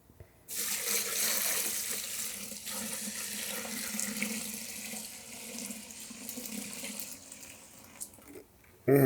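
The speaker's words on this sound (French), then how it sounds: "je veux juste rincer ça avec du bon kombucha" Water running from a sink tap in a steady, fairly loud rush for several seconds, then stopping, followed by a short clatter.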